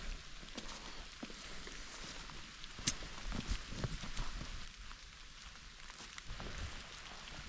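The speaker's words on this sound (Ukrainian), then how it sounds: "А у нас дощ не на шутку тріщить." Moderate rain patters steadily on leaves and ground in a forest during mushroom picking in the Rivne region, a soft hiss with occasional sharper drips and rustles of movement nearby.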